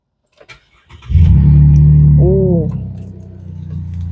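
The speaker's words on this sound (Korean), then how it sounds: "키를 넣고 돌리는 아날로그 감성으로 시동 바로 걸어봐 드릴게요" A Chevrolet Colorado pickup truck with a 4-inch lift turns over on a key and fires up close by, settling into a deep, rumbling exhaust idle.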